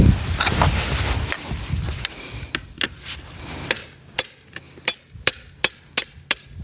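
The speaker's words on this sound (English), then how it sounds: "What I'm doing is pulling back on this as I'm hitting it with the hammer." A hammer strikes a metal fence staple on a four-plank fence while it is levered out with pliers, a series of sharp metallic clinks, sparse at first and then regular, ringing close to the microphone.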